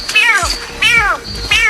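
A gerenuk antelope gives three loud, kitten-like meowing calls, each a rising then falling wail, evenly spaced and close by.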